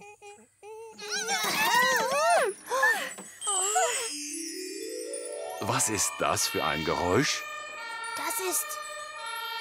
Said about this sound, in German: Ja, das ist das Geräusch von einem Krankenwagen.